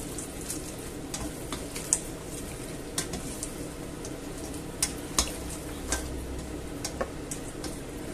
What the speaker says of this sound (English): I'm going to chuck in the potatoes, fried potatoes. And I'm going to stir it about.